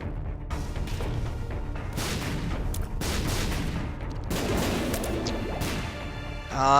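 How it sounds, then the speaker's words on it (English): Poison bombs firing and bursting in The Binding of Isaac: Afterbirth, a rapid string of loud crashing explosions and thwacks that come back to back, with brief gaps and a rising whoosh at the end. "Now I'm firing poison bombs instead of a laser"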